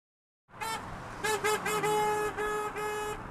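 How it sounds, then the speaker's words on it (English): Car horns honk repeatedly from vehicles driving past a picket line outside the Quinte Detention Centre in Napanee, several distinct toots of varying length over steady traffic noise. "drivers honk their support for the men and women picketing outside"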